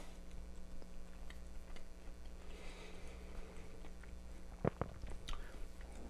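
Someone chews a mouthful of warm, freshly baked Scuppernong muscadine grape pie with a hint of cinnamon, giving soft, quiet, wet mastication with a couple of sharper bites near the end, close to the mic over a faint background hum.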